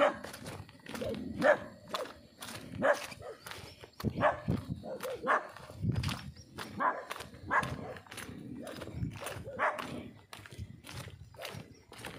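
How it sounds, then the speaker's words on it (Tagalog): Dogs along a mountain trekking trail bark repeatedly in sharp, fairly close bursts, mixed with footsteps and movement as hikers pass, with occasional voices in the background. "May mga aso dito, guys."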